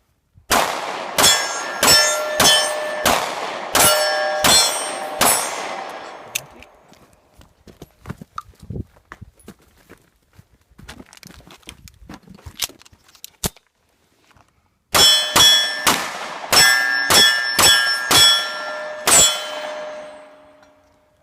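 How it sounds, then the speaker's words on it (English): Full magazines fired from an old-design pistol, a Luger P08 or Walther P38: two strings of about eight sharp, loud shots with ringing metallic tails, separated by a stretch of quiet shuffling and small clicks. "I'm going to shoot a magazine, then move down into the trench and shoot another magazine"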